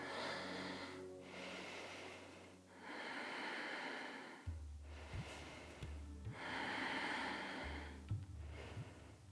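Deep, rhythmic breaths while holding yoga chair pose, a few long airy inhales and exhales alternating with low rough snort-like pulses, close and quiet with no talk.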